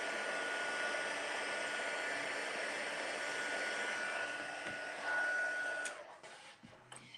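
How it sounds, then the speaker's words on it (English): A craft embossing heat tool on its number 2 setting blows hot air over embossing powder, giving a steady, close whooshing roar that holds for about six seconds and then cuts off, leaving quiet handling noise. "you're just going to heat it on the number 2 setting until you start to see the embossing powder"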